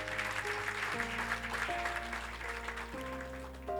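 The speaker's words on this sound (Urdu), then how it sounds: "یہ پھر ایک دفعہ تالیاں بجا دیں جی اگر آپ سنتے ہیں" Church congregation applauding during a Sunday sermon: soft, diffuse clapping washes under sustained keyboard chords that shift pitch every second or so.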